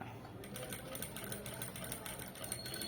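A sewing machine stitches fabric in a quick, even chatter of needle strokes at close range. The sound is faint and steady, and a person talks at the same time.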